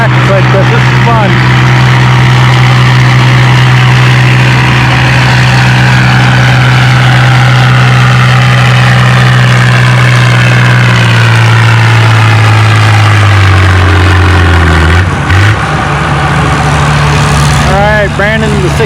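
A big farm tractor idles loudly and steadily at a tractor pull, its low engine drone holding before the pitch drops and shifts near the end, with a voice faintly heard over the running engine.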